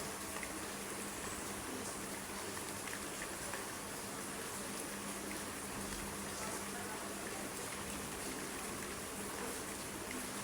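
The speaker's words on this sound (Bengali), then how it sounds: "তো দেখেন কি পরিমাণ বৃষ্টি হচ্ছে, গুড়ি গুড়ি বৃষ্টি।" Light drizzle falls steadily over an outdoor spot in Tongi, making an even hiss of fine raindrops that lasts throughout with no pauses or voices.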